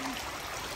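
A mountain stream flows with a stronger current, a steady broadband rush of water filling the short moment without a break.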